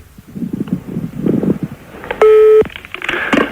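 Telephone call being dialed to a Pizza Hut restaurant in Reims: a steady single tone sounds for about half a second, followed by quick dialing bleeps, after indistinct murmuring and rustling at the start.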